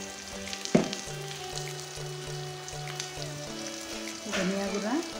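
Garlic and ginger paste with salt and spices sizzles steadily in a hot frying pan, up close, with stirring scrapes and bursts of louder crackle.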